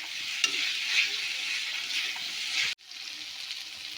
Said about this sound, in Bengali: একসঙ্গে মশলাটা একটু কষিয়ে নেব